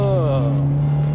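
A Toyota 86 accelerates on a drift course, its engine note rising steadily and up close, while a voice speaks briefly over it.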